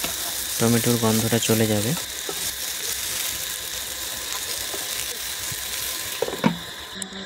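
Drumstick and potato curry with tomato sizzles and fries in a pan, a continuous hiss under someone speaking, with a brief scraping stir partway through.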